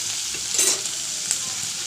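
Bengali spices for a lentil-dumpling curry fry in a pan with a loud, steady sizzle, and a spoon scrapes and stirs through them close by.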